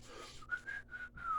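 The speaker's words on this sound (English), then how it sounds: "Well, I was whistling." A man whistles a short tune solo, nearby and clear, with a few sustained notes broken by brief gaps.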